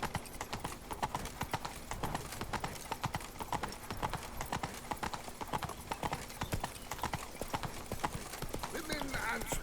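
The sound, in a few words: hooves of Geralt's horse Roach in video game The Witcher 3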